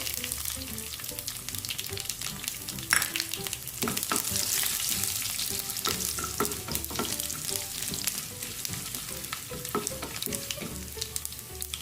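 Mustard seeds, cumin, urad and chana dal and dried red chillies fry in hot oil, a dense continuous crackling sizzle with sharp popping spits throughout, close and fairly loud, no voices.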